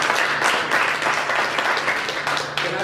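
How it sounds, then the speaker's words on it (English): Audience applause at a motivational workshop in Biloxi, Mississippi: a full, sustained round of many hands clapping, loud and close, with faint cheering mixed in. "Y'all give Zayla a hand clap."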